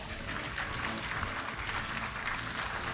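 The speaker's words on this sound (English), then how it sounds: "Let's give all of our contestants one more round of applause" Audience applause for the contestants of the Mrs. New Jersey pageant, a continuous, even wash of clapping at moderate, somewhat distant level, with no talk standing out.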